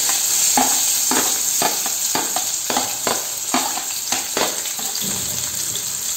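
Chopped onion tossed into hot oil for dal palak, a loud continuous sizzle with a rapid series of stirring scrapes, close and with no talking.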